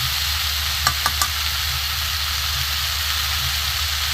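Mixed vegetables for a vegetarian dalna fry in a pan with a loud, continuous hissing sizzle, broken by three quick clicks of a utensil against the pan near the start, with no talking.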